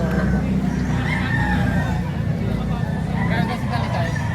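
Chickens cluck and a rooster crows amid a noisy yard in Lipa, Batangas, with people talking in the background.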